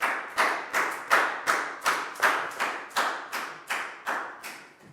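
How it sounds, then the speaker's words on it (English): A classroom of young pupils claps in a round of applause during a maths lesson, a dense patter of hands rising in about a dozen quick surges close to the mic, with no talking. "a big round of applause for Pat"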